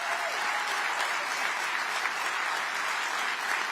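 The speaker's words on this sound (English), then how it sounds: "deserves a round of applause" An audience applauds the radio producer at a live political gathering, a steady, dense wash of many hands clapping at an even level throughout, with no voices standing out.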